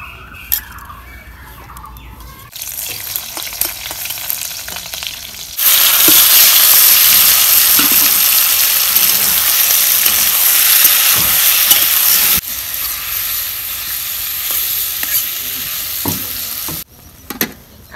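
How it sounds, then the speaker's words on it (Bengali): Tomatoes with turmeric, salt and green chillies frying and being stirred in a pan in a village kitchen; quiet stirring at first, then a loud sustained sizzle for several seconds before easing back to softer frying and scraping. "আমার টমেটো ভাজা হয়ে গেল"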